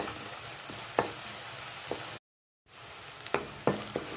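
Onions sautéing in oil in a kadai for kadai paneer, a continuous close sizzle with occasional spoon scrapes and a brief dropout of silence midway, no speech.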